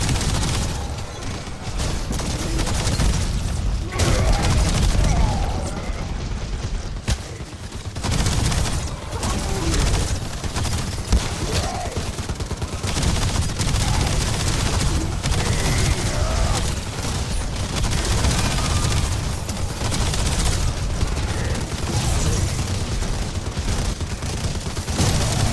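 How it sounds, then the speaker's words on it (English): SMG gunfire in a first-person shooter video game, with dense rapid bursts and explosive booms filling the whole stretch, loud and continuous over a busy game soundscape. "Not impressed with this SMG at all."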